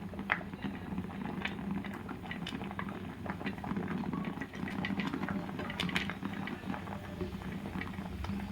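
A homemade soap mixture boils in a pot on a stove, giving a steady, close bubbling and popping with soft crackles throughout and no voices.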